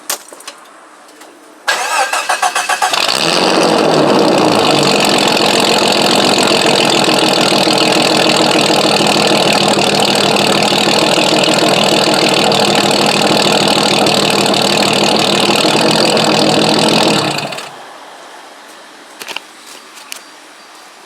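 A Jeep Cherokee XJ with the muffler deleted cranks briefly, then catches and settles into a loud, raw, steady idle close by for about fifteen seconds before shutting off abruptly.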